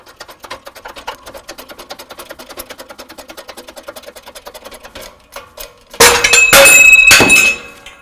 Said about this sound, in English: We'll bring this down, press it out.